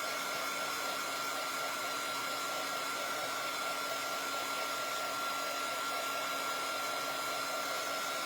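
A hair dryer blows steadily while drying a puppy, making a constant close, loud whooshing roar with a steady tonal whine and no breaks.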